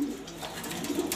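A Super Mili male pigeon at a seller's loft gives a soft, low cooing call, heard close and alone in a brief burst with a fuller coo at the end.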